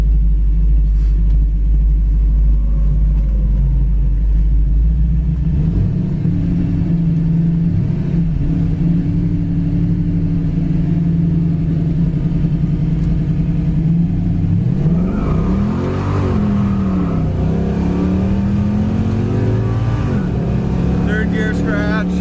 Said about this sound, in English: I'm going to start off in low here and just kind of go through the gears once we get it straightened out.